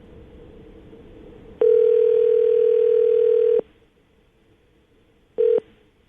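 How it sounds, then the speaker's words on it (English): A steady telephone dial tone holds for about two seconds, then cuts off, followed later by a brief second tone burst over quiet line hiss. "See if we can get him on the phone"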